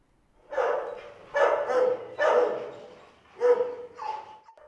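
Police dogs bark during training in a handful of sharp, separate bursts with short pauses between, fairly close, ending in a higher yelp.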